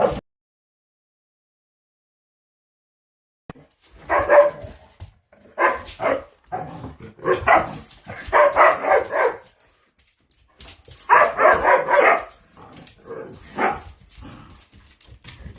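A puppy named Luna barks in short bursts and yips, close and fairly loud, with brief pauses between clusters and a long silent stretch at the start.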